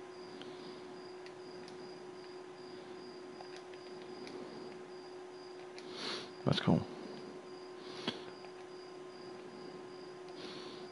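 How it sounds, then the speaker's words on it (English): A cricket outside a countryside house at night gives faint, steady pulsed chirping over a low constant hum. A close rustle interrupts it once, and a voice says a few words. "Now there is a cricket outside of our house."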